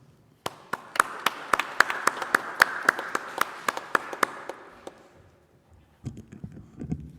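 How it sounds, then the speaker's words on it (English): A church congregation gives a short round of applause for birthdays, a string of distinct, fairly even claps that fades out, followed by a brief voice. "let's say happy birthday and give them a round of applause."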